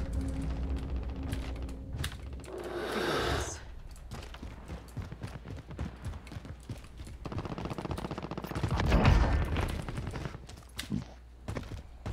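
Gunfire in Call of Duty: Warzone at the Boneyard area, with scattered shots and bursts mixed into busy game noise, a louder swell of fire near the end, and talk in between.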